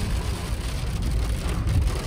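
Rain falling mixed with a little snow: a dense, steady hiss and patter with a low rumble beneath, constant and fairly loud throughout, no voices.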